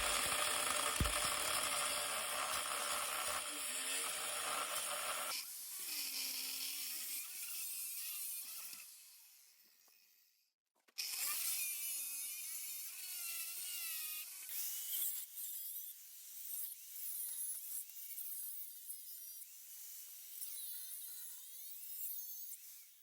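Power cutting of a welded part on a cheap backhoe attachment: a loud, steady high whine and grinding for several seconds, a brief drop-out, then renewed intermittent cutting noise with scraping bursts.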